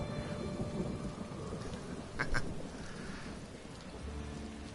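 Steady rain and a brief thunder crack in the Elder Scrolls Online video game, a constant wash of falling rain with one sharp rumble partway through, no voices.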